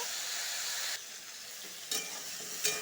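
Salted pointed gourd (potol) frying in a pan, a loud close hiss that drops in level partway through, followed by a couple of brief stirring scrapes and no talking.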